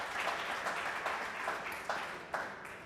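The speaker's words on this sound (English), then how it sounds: "Yes, warm applause." Modest, fairly quiet applause from an audience after a presentation at a railway technology conference, a soft continuous patter with a few sharper individual claps standing out.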